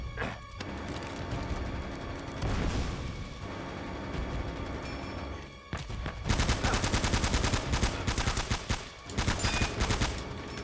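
Rapid gunfire crackles through a PS3 Uncharted game, with bursts of automatic shots and impacts over a busy soundtrack, growing denser and louder in the second half, with no talking.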